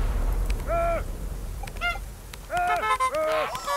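Cartoonish goose-like honks from a honk attachment in the video game Toem, fired at birds, sounding in short clustered bursts, near and fairly loud over a low ambient background.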